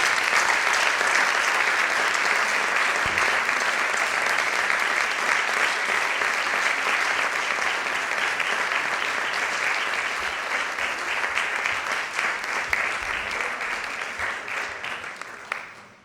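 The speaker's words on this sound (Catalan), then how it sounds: "Un fort aplaudiment, per favor." Sustained audience applause fills a literary awards gala, steady dense clapping from a large crowd that holds at full strength and tapers slightly at the very end.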